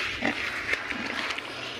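A young wild boar grunts in a few short, close snorting bursts over a low steady background hum, with no talking.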